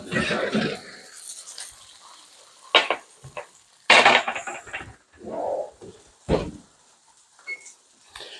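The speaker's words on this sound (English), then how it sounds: "You can hear them sizzling" Bursts of sizzling and crackling from vegetables for eggplant caponata in a hot pan come and go in waves, mixed with scraping and stirring noises close by.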